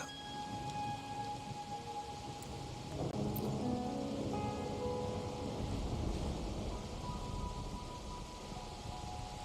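Steady rain with rolling thunder in the Wuthering Waves video game, a dense continuous hiss with a low rumble swelling partway through.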